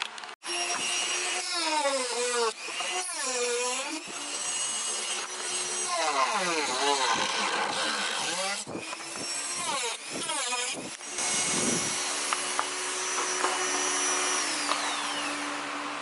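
A Dremel rotary tool whines as it cuts through a plastic shifter splitter. The pitch rises and falls as the bit bogs into the plastic and frees up again, loud and close for the whole stretch, with no talking.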